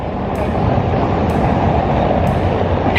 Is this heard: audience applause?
no